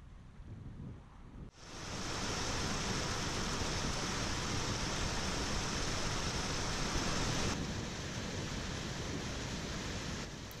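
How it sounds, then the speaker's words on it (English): A moorland beck, Slate and Beck, flowing beside a walking path near Bowes on the way to God's Bridge, with small waterfalls nearby. It gives a steady, loud, close rushing wash that runs unbroken, with no voices. "The river alongside us now is Slate and Beck, which has wound its way down off the moor."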